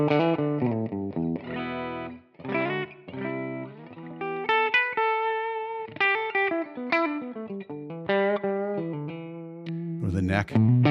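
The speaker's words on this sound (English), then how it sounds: "I'm on the bridge pickup here on my Gibson 335." Electric guitar phrases played on the bridge pickup of a Gibson 335 through a Line 6 Helix amp model at default settings, with clear, bright sustained notes, quick runs and bends, close and unaccompanied.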